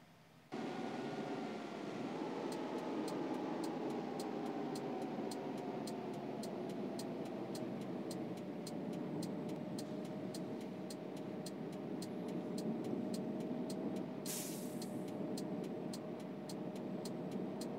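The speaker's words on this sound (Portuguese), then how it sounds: "Vou até ligar ali meu auxiliar, freio motor" A coach bus engine brake kicks in while driving, giving a steady low drone with a rising mechanical whine. A rapid regular ticking runs over it, with a brief hiss near the end.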